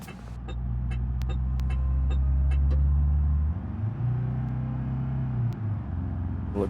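A car engine in the BeamNG driving game revs hard and steady, then drops and climbs again under heavy throttle, with faint clicks over the drone.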